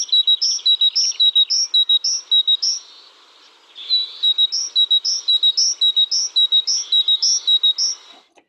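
A forest songbird near Málaga sings clear, high, repeated chirping phrases in two bursts separated by a short pause, sounding close and bright against a quiet background.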